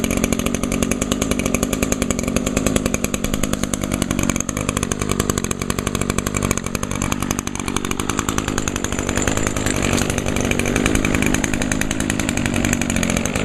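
An Echo string trimmer runs steadily at close range, a loud, buzzing two-stroke engine drone with slight shifts in pitch as the throttle varies, continuous throughout.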